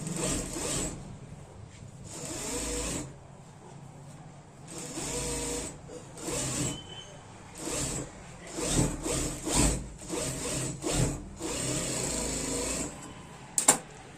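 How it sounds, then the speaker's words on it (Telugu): A sewing machine stitches blouse lining cloth in short, repeated bursts of close mechanical whirring, each separated by brief pauses while the fabric is turned. "ఈ క్లాత్ ని ఇలా లైనింగ్ క్లాత్ ని ఇలా తిప్పేసి దీనిపైన ఒక కుట్టు అనేది వేసుకుంటున్నాను"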